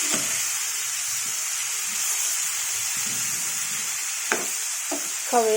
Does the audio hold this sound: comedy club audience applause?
no